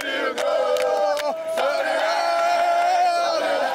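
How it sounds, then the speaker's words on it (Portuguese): Brazilian football fans chant loudly outside Stadium 974 in Doha after a World Cup win, many voices singing in sustained tonal unison with a few sharp bangs or claps punctuating the start. "torcedores soltaram a voz do lado de fora do estádio 974 para comemorar a goleada"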